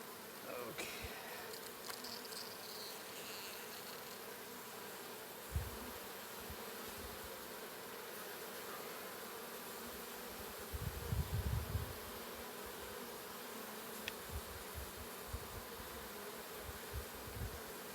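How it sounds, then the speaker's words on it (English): An agitated, queenless honeybee cluster split into two balls of bees gives off a faint, continuous buzzing drone, with scattered soft low thumps and rustles and a brief louder patch of noise near the middle. "this cluster does look like it's queenless. They're agitated. They've broken up into two balls of bees."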